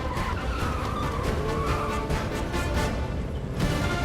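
Film car chase with tires skidding and engines roaring through a dense, continuous wash of loud vehicle noise and impacts, with no clear speech.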